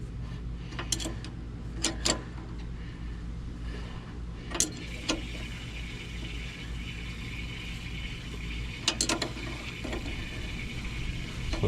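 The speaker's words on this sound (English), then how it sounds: "And now tighten it onto the caliper." A wrench tightens a brake line fitting onto a rear disc brake caliper of a 1974 Volkswagen Westfalia. A few sharp ratchet-like clicks and ticks stand out over a steady low hum.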